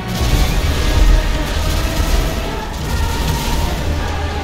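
An RPG rocket fired in GTA 5 at a pile of more than 50 Chevrolet Taipan cars sets off a dense, sustained booming blast roar that rumbles loudly and continuously through the whole stretch, with no voices over it.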